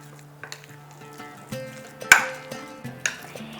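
Spices stirred with ginger paste and asafoetida in a pan: intermittent spoon scrapes and metallic clinks with a faint sizzle, and one sharp clang near the middle.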